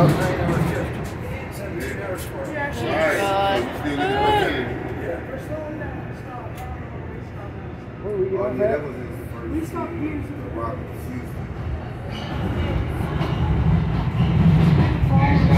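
A Metro passenger train heading to Saint Louis, Missouri rumbles along steadily with a low, continuous roar and rattling metal wheels, while people talk nearby over the noise.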